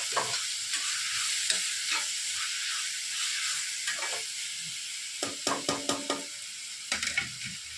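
Food sautés in a pan with salt and turmeric in a home kitchen, giving a steady close sizzle and hiss, with several spoon scrapes and taps clustering toward the end and no talking.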